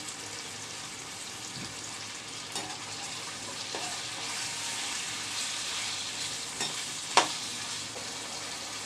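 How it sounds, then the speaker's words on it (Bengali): Chicken pieces frying in a pan with lemon juice and salt, a steady broadband sizzle running throughout with a few soft stirring scrapes and one sharper clink near the end; no voices. "এই মাংসগুলোকে বেজে নিচ্ছি"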